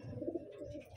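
A pigeon gives a brief, low, throaty coo, faint and close, lasting only about a second amid quiet loft noise.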